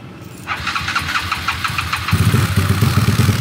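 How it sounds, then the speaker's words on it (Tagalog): An engine starts for the first time after a rocker arm swap on a flat head, catching after a few seconds and then revving hard and loud in rapid pulsing bursts close by. "Rev muna natin. First start eh."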